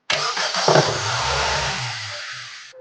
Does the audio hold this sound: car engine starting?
yes